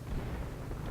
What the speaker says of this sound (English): Our sector is under artillery fire.